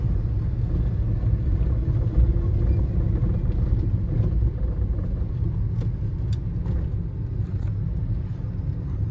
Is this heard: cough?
no